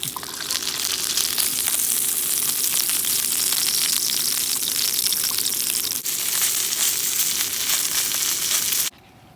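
Meat separated from the bone fries in oil in a pan outdoors, a dense, loud crackling sizzle holding steady for several seconds before cutting off abruptly near the end.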